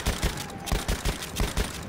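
A Chauchat machine gun in Battlefield 1 fires a rapid string of heavy, punchy shots at a steady, fairly slow rhythm, close and loud throughout.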